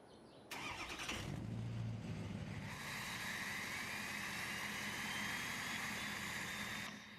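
A diesel Ford 6.7 Powerstroke truck engine in Farming Simulator 22 cold-starts with a sudden loud crank, then settles into a steady, rough idle with a high turbo-like whine that holds to the end.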